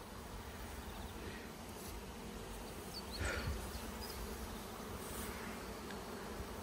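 Bees hum in a steady dense drone close by as honeycomb frames are pulled from a hive in hot weather, faint overall with a brief louder pass midway and no talking.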